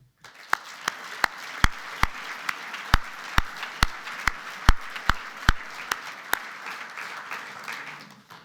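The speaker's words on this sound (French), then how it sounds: "Je vous propose de les applaudir." Audience applause at an evening award ceremony for a European essay prize in Lausanne, a steady wash of many hands clapping with sharp individual claps standing out, fading toward the end.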